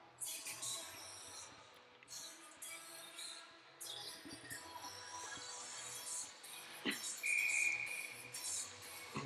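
A referee's whistle gives one brief, shrill blast late in the clip at an ice hockey game between the Mansfield Barracudas and Reno Ice Raiders, heard over a busy, echoing arena murmur with scattered knocks and clatter.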